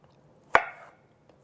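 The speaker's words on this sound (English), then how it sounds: "Now I'm going to slice this, then I'm going to slice these into half moons." One crisp knife cut through salad vegetables on a cutting board, a sharp single chop with a short decay in a quiet kitchen.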